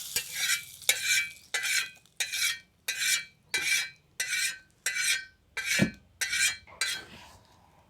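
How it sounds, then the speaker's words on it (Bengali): Batter being mixed in a bowl with oil-fried whole cumin, fried chillies and ground cumin for drumstick-flower pitha: about a dozen steady rhythmic stirring strokes, each a wet scraping swish against the bowl, close and clear with no talk. "সব কিছু একসঙ্গে খুব ভালো করে মিশিয়ে নিচ্ছি"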